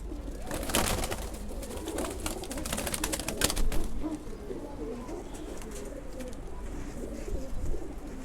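Pigeons in a cage, two cages full of them, keep up a low, steady cooing with bursts of wing flutter and scuffling near the start, continuous and fairly close, with no talk.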